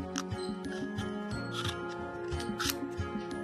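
Scissors snip through paper to cut out a greeting card, a close series of crisp, repeated cuts and light rustles with no talking.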